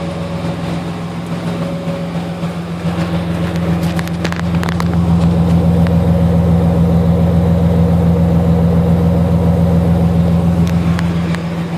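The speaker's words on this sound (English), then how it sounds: "Requires about 7 or 8 minutes to come off the choke cycle, and the idle will come down." A Nissan R31 Skyline with a 2.5-inch exhaust idles steadily on choke, a deep continuous engine hum that grows slightly louder partway through and holds, with no talking.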